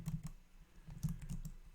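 Quick bursts of keyboard typing while coding game movement controls, a few soft clustered keystrokes at close range in a quiet room, with short pauses between bursts and no talk.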